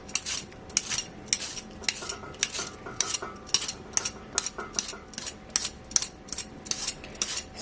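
Peeler scraping yautia root in a kitchen, a steady series of short rasping strokes repeating about twice a second, close and crisp with a faint metallic click on each pass.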